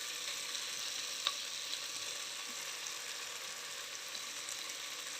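Grated carrot fries in a hot pan with a steady, even sizzle and hiss, broken by a few light scrapes from stirring. There is no talking.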